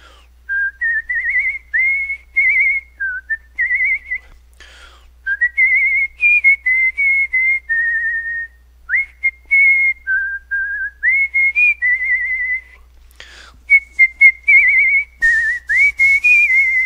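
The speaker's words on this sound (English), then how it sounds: "I'm so jealous of the fact that you can whistle." A person whistles a lively, wavering melody in short phrases separated by brief pauses. The whistling is clear and close, heard alone over a faint low hum.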